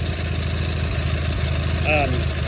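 A Cub Cadet 682 garden tractor engine runs at a steady, loud idle with a regular low throb throughout, with a brief squeak near the end.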